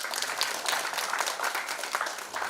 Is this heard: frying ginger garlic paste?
no